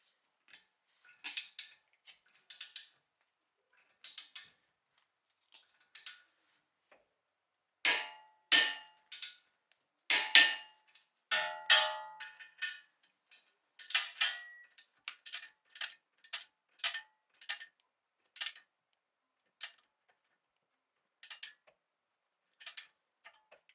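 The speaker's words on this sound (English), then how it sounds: "So I'm going to set my torque wrench and tighten those guys up now." A torque wrench tightens cam bolts on a 2015+ Subaru WRX during an air suspension install, producing many short, sharp metallic ratchet clicks in irregular bursts, close and clear with quiet gaps between.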